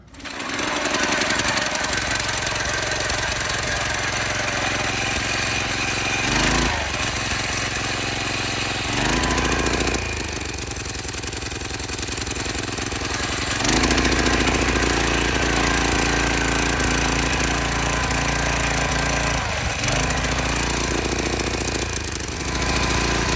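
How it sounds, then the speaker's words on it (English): A two-man earth auger's small engine roars loud and close, boring into soft dirt with a steady, rattling drone and brief dips in load. "There's the auger."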